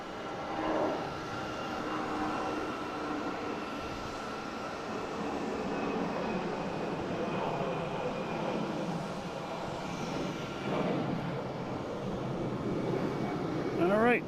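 A British Airways airliner rumbles steadily at Boston Logan airport, a broad distant engine drone holding for the whole stretch while a voice talks over it.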